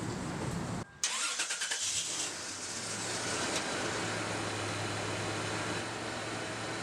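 A Toyota 4Runner with the 5VZ-FE V6 and 245,000 miles cranks briefly with a few rapid starter pulses, then catches and settles into a steady, fairly loud idle up close.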